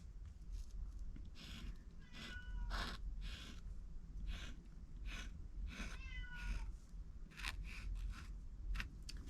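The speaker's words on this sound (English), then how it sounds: "Can y'all hear Tiny meowing?" A cat meows repeatedly, a series of short, fairly close calls spread across several seconds over a low background hum.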